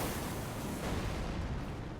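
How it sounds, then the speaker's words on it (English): Ghost Flame Cannon spell from the Elden Ring game, modded Necromancer class, fired uncharged: a steady, loud rush of broadband roaring noise that barely swells or fades over two seconds, with no voices. "Shoots out a little Ghost Flame explosion that flies out in an arc."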